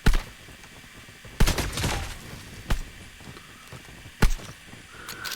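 Semi-automatic fire from a CR-56 AMAX rifle in a shooter video game, four sharp separate shots spaced about a second apart over a low constant background.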